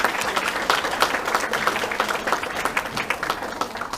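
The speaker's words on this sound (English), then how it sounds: "Let's give them a round of applause." An audience at a Christmas showcase at the Cracovia Club applauds dancers with dense, steady clapping that carries on without a break and fills the room, with no voices standing out.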